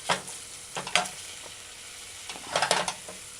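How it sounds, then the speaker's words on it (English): Seasonings sautéed with tomato being stir-fried in a saucepan, giving a few bursts of scraping, stirring and sizzling with quiet gaps between them, close by and with no talking. "So now, just stir fry the sauteed seasonings"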